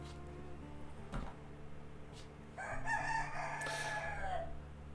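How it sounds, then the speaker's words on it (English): A rooster crows once, loud and close, its drawn-out call rising over steady low background hum with no talk. "Romania Tuba, the lovely rooster."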